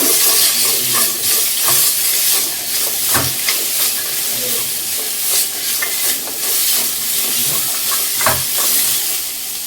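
Radish pieces sautéing in about a tablespoon of oil in a pan for chutney, a steady close sizzle and hiss with repeated scraping stirs and utensil clicks throughout, no talking.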